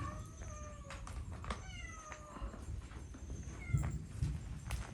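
A kitten in an abandoned house gives several short, high, rising meows in quick succession, fairly close over a low background rumble and a few thumps.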